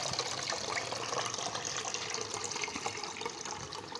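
Water pours steadily over ground field crab shells as they are rinsed and strained for crab soup, a continuous close splashing and trickling with no talk.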